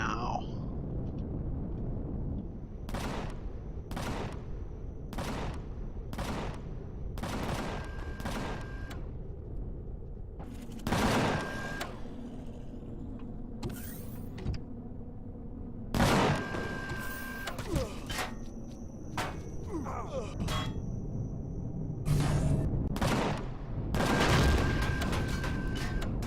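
Automated turrets in the space survival game Empyrion firing repeated bursts, sharp broadband bangs landing in uneven clusters over steady background hum, loud and close throughout.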